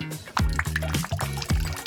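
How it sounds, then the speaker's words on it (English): Nail polish drips into a bowl of water in a quick series of close, bloopy plops, about four or five drops in under two seconds, with no talking. "I need a bowl of water and I'll add nail polish to it."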